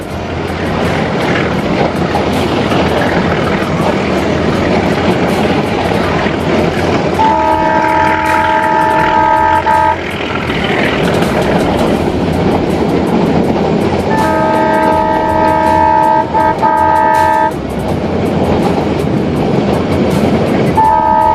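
A passenger train leaving Marwar Junction in Rajasthan rumbles steadily along the tracks with continuous wheel noise, and a loud horn sounds repeatedly in long blasts partway through.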